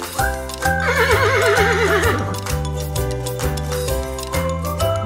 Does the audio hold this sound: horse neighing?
yes